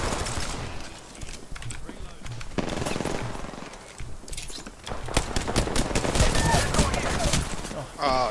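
Rapid bursts of automatic gunfire in a multiplayer shooter video game, dense volleys rattling through most of the stretch with brief lulls, while a player talks over the shooting.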